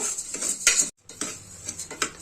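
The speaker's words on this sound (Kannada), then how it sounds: "ಹಾಗೆ ಒಂದ್ ಸ್ವಲ್ಪ ಎಣ್ಣೆ ಹಾಕೊಂಡು ಇವಾಗ ಇದನ್ನು ನೀಟಾಗಿ ನಾವು ಹುರ್ಕೋಬೇಕು" Bansi rava being roasted in a little oil in a pan, heard as close metallic clinks and scrapes of a spoon against the pan in short bursts, with a brief silent gap midway and no talking.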